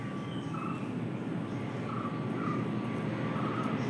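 Airplane flying overhead above a village, a steady faint distant engine drone holding evenly throughout, with faint chirping in the background and no clear voices.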